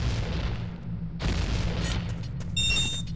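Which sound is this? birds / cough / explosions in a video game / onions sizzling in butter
explosions in a video game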